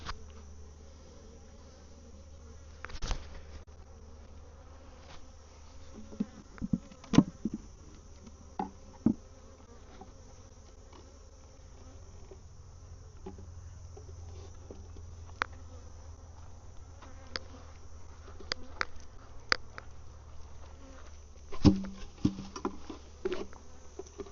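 Honeybees buzzing around a hive, with faint droning and occasional louder passes close by, plus scattered light taps and rustles.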